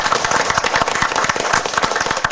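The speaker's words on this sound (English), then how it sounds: "I want to give them a round of applause" A round of applause at a city council meeting, many hands clapping steadily and densely throughout with no pause, moderately loud and fairly close.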